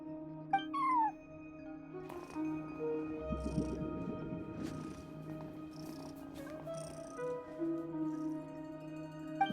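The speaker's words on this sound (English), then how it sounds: "No one except for a cat watching over the front desk." A cat meows a few times at a front desk in Genshin Impact, over a steady electronic hum and soft game-like background music, with a short low thump partway through.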